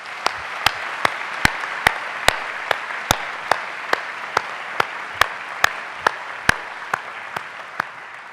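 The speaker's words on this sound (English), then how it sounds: "I would like to begin with a very warm round of applause for every mother who is with us today." Commencement crowd at a medical school graduation applauding the mothers present, a sustained wash of clapping with sharp regular claps standing out near the microphone, no talking.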